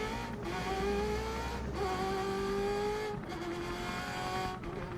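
A Ferrari race car at speed on a track, its engine a loud, steady high-pitched whine that climbs in pitch through repeated gear changes, with brief dips between shifts.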